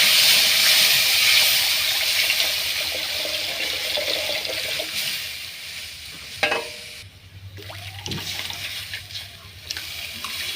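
Water splashes into a wok holding mung dal, giving a loud continuous hissing rush that eases after a few seconds, with a clank and sizzling afterward.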